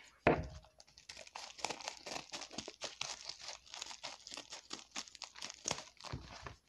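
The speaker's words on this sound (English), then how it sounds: "So let me cut this open real quick." A mail package being cut open at close range, with crinkly tearing and rustling of packaging in a rapid, irregular stream of scratchy bursts after a sharp opening thump.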